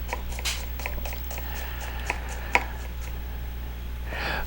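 Fresh garden vegetables for Hungarian goulash are sliced with a knife, giving a few faint, scattered cuts and taps over a steady low background hum.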